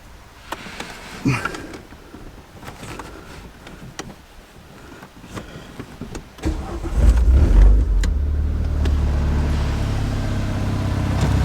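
Clicks and rustling inside a Renault Megane RS, then the engine cranks and catches around the middle, settling into a steady low idle rumble close by.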